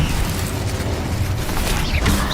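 Incendio fire spell in Hogwarts Legacy, a dense roaring burst of flame and rumble filling the whole moment, loud and continuous without a break.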